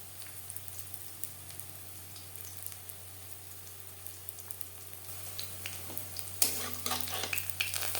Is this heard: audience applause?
no